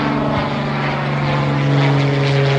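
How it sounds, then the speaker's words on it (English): A small propeller airplane drones loud and steady overhead while turning left out of the area. Its engine hum stays strong and even throughout, with no talking. "here a small airplane, let's take a look. Oh, he's making the left turn out now."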